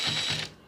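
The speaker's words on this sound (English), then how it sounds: "I usually go backwards on the bolt until you hear a little click." A ratchet clicks as a bolt is backed off while fitting the door handle on a Masonite Cheyenne interior door, a single short, close mechanical burst that fades quickly, with no talk.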